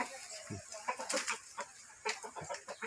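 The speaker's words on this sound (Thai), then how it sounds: "นี่เป็นไก่ตีของแกสายพันธุ์" A Thai fighting rooster clucks in short, close, irregular bursts, with a few other faint fowl and farmyard sounds around it and no clear speech.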